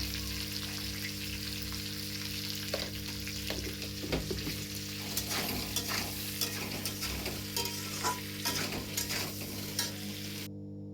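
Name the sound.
potato and eggplant frying and being stirred in a pan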